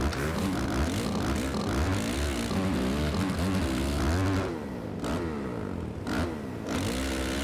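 A motocross bike engine revs hard in the racing game MX vs ATV Supercross Encore, its pitch sweeping up and down before dropping back to a quieter idle broken by a couple of short throttle blips.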